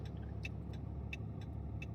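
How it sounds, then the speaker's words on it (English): Road traffic rumbles steadily a couple of miles from the Mexico border crossing in Texas, a continuous low engine drone with faint, scattered clicks on top and no voices. "so I'm having to wait for the traffic."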